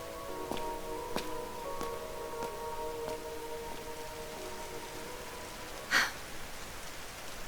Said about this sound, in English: Why'd it have to rain?